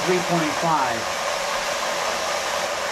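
Water-driven micro hydro turbine with a Turgo runner spinning fast at about 60 psi through a half-inch opening, giving a steady, loud whooshing whine that holds constant, with a brief murmur of a voice near the start.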